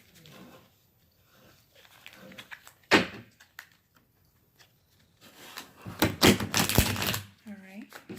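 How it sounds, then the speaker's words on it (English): Tarot cards being shuffled by hand, a few quick riffling bursts, one brief and a longer flurry later, close to the microphone amid quiet pauses and a voice speaking. "We'll do 3 shuffles."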